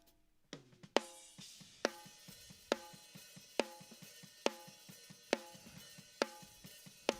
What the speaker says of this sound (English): Now we have another version of the snare that's slammed.